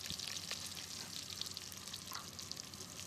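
Garlic, slit green chilies and ginger strips sizzle steadily in hot oil, a close, even crackling hiss with no break.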